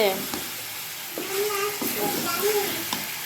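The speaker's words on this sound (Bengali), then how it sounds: "আবার একটু নেড়ে দিব দেখো একটু লেগে লেগে এসেছে" Chicken curry frying in a pan while it is stirred, giving a steady sizzle with scraping strokes; someone talks over the cooking.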